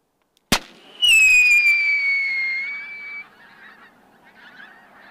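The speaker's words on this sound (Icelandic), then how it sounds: "Þær eru komnar í stórum hópum gæsirnar og raða sér allt í kringum Egilsstaðaflugvöll." A sharp bang is followed by a loud, drawn-out honk from geese gathered in large flocks around Egilsstaðir airport in Iceland, then fainter calls trail off.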